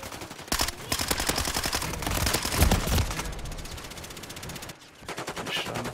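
Modern Warfare 3 gunfire from a Demolition match sounds in dense, rapid automatic bursts, loud and continuous for several seconds with a brief pause near the end before the shooting starts again.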